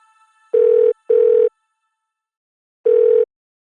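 A telephone ringing tone plays over speakerphone: two short buzzing tones close together, a pause, then a third, clear and alone with no voices.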